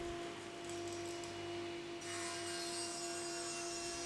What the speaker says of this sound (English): I'm cutting a groove here for the bottom panel to slide into